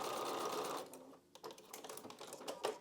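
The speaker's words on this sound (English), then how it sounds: "So we are going to sew on that" A sewing machine runs a seam along the line of a foundation paper-pieced butterfly block, a brief burst of fast stitching under a second long, then quiet clicks and rustling of fabric and paper.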